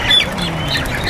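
Chickens on a farm in the province, raised in large numbers, heard early in the morning: continuous close clucking and bird chatter over a steady low background, with no talk.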